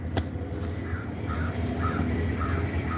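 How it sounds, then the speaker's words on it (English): Somewhere in the background, a crow gives several faint, repeated caws over a steady low rumble of ambient noise. "That crow just, I don't know what's wrong with it."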